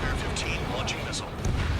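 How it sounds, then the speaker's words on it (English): Missile launch in Ace Combat 7: Skies Unknown, a loud rushing, rumbling roar with bursts of jet noise, continuous and close, overlaid by radio chatter. "Spare 15 launching missile."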